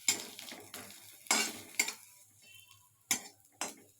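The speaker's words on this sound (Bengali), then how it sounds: "বাটার দিয়ে অল্প অল্প করে আমি একটু সেঁকবো" A stuffed snack toasts in butter in a pan, giving soft sizzling with scattered clinks and scrapes of a utensil against the pan, close and fairly quiet.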